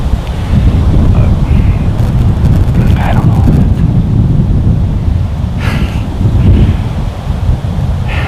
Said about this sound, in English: it's pretty freaking windy